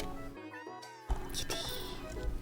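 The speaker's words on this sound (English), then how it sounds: "I heard the cat meow" A cat meows in the video game Minami Lane, a short mewing call set against a steady, moderately loud game soundtrack.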